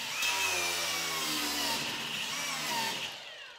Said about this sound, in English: Is that the carpentry attachment for the grinder?